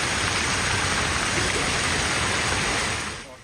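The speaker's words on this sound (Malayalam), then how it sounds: "കാലവർഷത്തിന് മുൻപേ എത്തിയ കനത്ത മഴയിൽ കൊച്ചി നഗരം വെള്ളക്കെട്ടിലായി" Heavy pre-monsoon rain pours down over a waterlogged Kochi street, a dense, steady roar of hissing water that holds even and loud before fading off at the very end.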